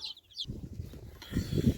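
A few short clucks and soft calls from chickens and young chicks nearby, with a brief higher chirp at the start.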